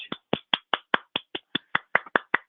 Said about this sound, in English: That's my golf clap.